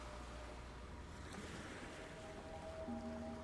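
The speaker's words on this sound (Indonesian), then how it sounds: "selalu ditemani suara laut yang tak pernah henti" Ocean waves wash steadily onto a shore as a continuous, faint, far-off surf roar with a breezy hiss, and no voices are heard.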